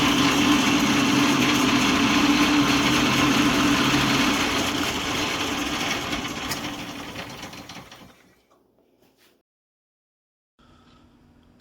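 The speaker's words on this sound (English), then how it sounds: "Here's a video of the big chuck lathe running." A 1939 wood lathe spins a big chuck with noticeable vibration, giving a loud, steady mechanical hum that gradually winds down to near silence, followed by faint handling sounds.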